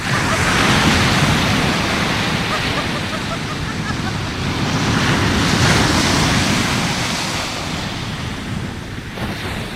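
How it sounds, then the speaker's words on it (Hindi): Sea waves wash continuously onto a shore, a loud, steady roar of surf with gentle swells in intensity and wind buffeting the microphone throughout. "समुद्र के लहरों से खेलती"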